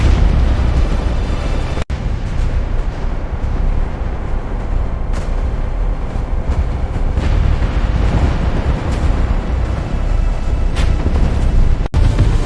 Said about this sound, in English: A massive explosion lights up the night sky.